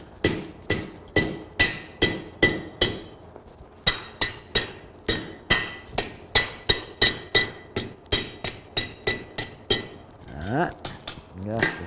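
A blacksmith hammers half-inch steel stock into a leaf hook, delivering a long steady run of ringing metallic blows on the anvil, close and loud, ending with a scraping shuffle.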